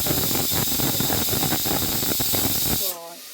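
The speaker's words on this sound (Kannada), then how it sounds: "ಸೊ ಇನ್ನೊಂದು ವಿಸಿಲ್ ಆದಮೇಲೆ ಆಫ್ ಮಾಡೋಣ." A pressure cooker on a gas stove, cooking broad beans, lets out a loud, sustained hissing steam whistle that cuts off abruptly near the end, leaving a brief quieter tail.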